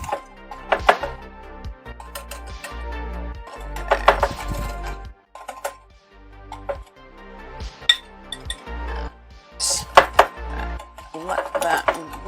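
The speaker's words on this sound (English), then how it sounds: "Let that whisk that up a bit." Metal whisk beating pale yellow cake batter in a bowl for a cake with apples, a run of clinking, scraping strokes in short bursts, with kitchen clatter of dishes and utensils and some talking nearby.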